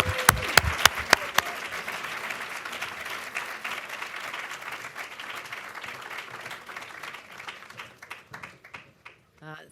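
An audience greets Governor Kathy Hochul of New York with sustained applause that opens with a few loud individual claps, swells into dense clapping, then thins and fades toward the end.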